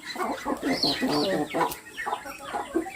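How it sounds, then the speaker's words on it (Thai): Chickens clucking and squawking in an agitated scuffle with a duck, bursts of fowl calls close by over a background of faint rustling. "เอาเป็ดกับไก่ตีกัน"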